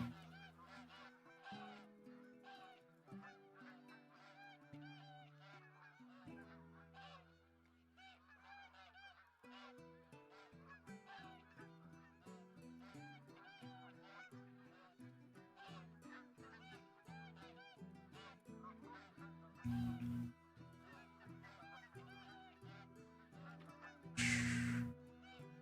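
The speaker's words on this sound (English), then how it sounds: "Oh, goose." A flock of geese in a hunting video game keeps up a continuous chorus of overlapping nasal honks at a steady moderate level, with two louder close bursts standing out near the end.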